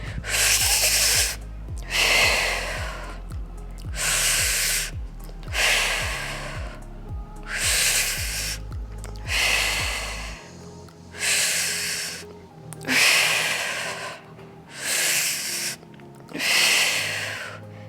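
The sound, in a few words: breathing during core exercise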